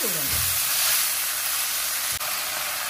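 A burst of loud, hissing sizzle as coriander stem and mint chutney hits hot oil over a low flame, holding as a strong steady crackle for a few seconds.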